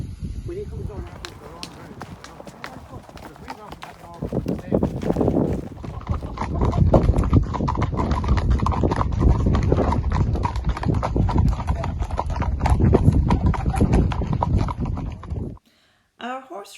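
Horse hooves clip-clop in a steady walking rhythm on a countryside ride through scenic mountain views, close and clear throughout, with a person talking over them before the sound stops abruptly near the end.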